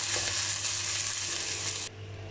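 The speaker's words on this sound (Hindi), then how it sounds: "कीमा बहुत अच्छे से भुन रहा है" Minced meat (keema) sizzles and fries steadily in a pot, a loud, continuous crackling hiss close up that drops to a quieter sizzle near the end.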